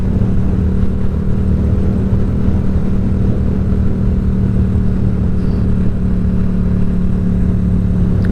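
A motorcycle passes on a town road, heard from the seat of a Yamaha MT-07, with a steady engine drone and wind filling the whole stretch at moderate loudness and no talking.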